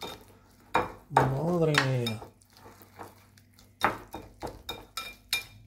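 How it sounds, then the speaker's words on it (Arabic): Spoon scraping and clinking against a bowl while an oat dessert is mixed, several sharp taps and stirring clatters spread through the clip, with a voice speaking briefly in between. "غادي نخلطو هادشي مزيان."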